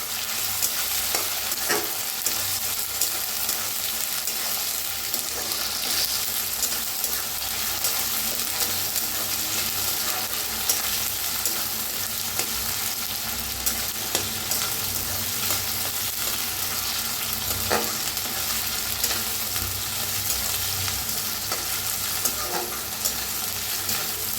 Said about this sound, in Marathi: आता कांदा, टमाटो, लसूण, अद्रक सगळं छान भाजलेलं आहे।